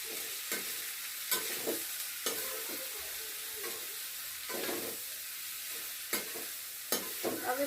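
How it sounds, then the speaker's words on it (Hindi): Boiled food is stirred in a frying pan with a steady sizzle. Scraping strokes at irregular intervals rise above the constant hiss, close up and with no talking. "अब इसको चला लेंगे, सिर्फ हमें फ्राई करना है।"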